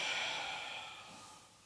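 One long, deep breath during a yoga session, a close, breathy exhale that slowly fades, alone.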